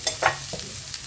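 Garam masala and ground turmeric stirred in a sauté pan give a brief, soft sizzle with a few quick scraping strokes.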